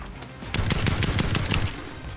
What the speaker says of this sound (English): Who'd that be shooting at me?